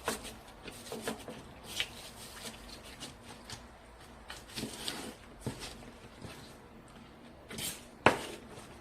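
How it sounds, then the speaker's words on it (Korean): A knife slices through green onion on a cutting board, producing a handful of soft irregular taps and thuds spread over several seconds, close and fairly quiet, with no talking. "먼저 준비하신 대파는 이렇게 반을 가르시고 또 이렇게 반을 갈라주세요."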